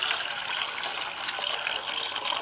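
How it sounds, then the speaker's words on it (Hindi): Rice grains rinsed and swished in water in an outdoor village kitchen, a steady close splashing and sloshing of liquid that carries evenly throughout without any talk. "इसको बढ़िया से धो देते हैं, धो कर भिंगा कर रख देंगे।"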